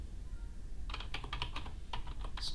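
Quick bursts of keystrokes on a computer keyboard, close and fairly quiet, beginning after a short pause and continuing in irregular clusters to the end.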